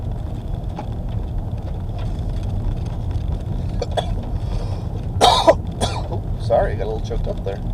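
A driver in a rental car coughs and clears his throat several times in rough, close bursts over a steady low road and engine rumble.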